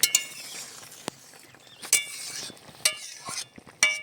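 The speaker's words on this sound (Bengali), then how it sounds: "ঢাকাটা খুলে নিচ্ছি" Metallic clinks and scrapes as a lid comes off a simmering pot of river tengra fish with green chillies and winter vegetables, several sharp close knocks spread across a few seconds.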